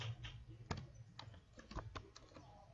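Typing on a computer keyboard while entering a field name in a Microsoft Access query, a quick irregular run of light key clicks close by, with a few sharper taps standing out.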